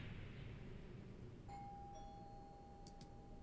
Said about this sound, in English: I've got to walk away to check the doorbell real quick.